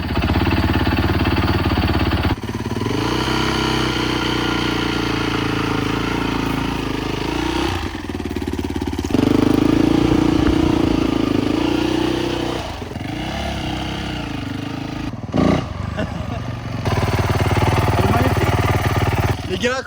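A motocross dirt bike engine, repaired after a crash, starts and runs loudly and roughly up close, revving and idling in uneven bursts with brief dips in between.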